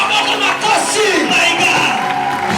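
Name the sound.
church congregation cheering and acclaiming loudly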